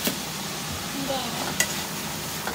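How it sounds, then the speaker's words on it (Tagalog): Food frying in a pan is stirred, a steady soft sizzle with faint scraping underneath and a couple of sharp utensil clicks against the pan. "haluin na siya."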